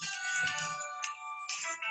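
A mobile phone ringtone plays alone, a bright electronic melody of sustained tones with a brief break near the middle, fairly faint and close.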